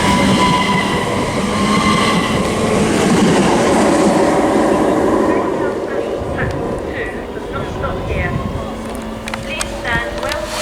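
A Class 365 electric train passes Biggleswade on the East Coast Main Line, a loud, close, sustained roar and rumble that eases slightly toward the end, with squeals and clicks over it and someone talking.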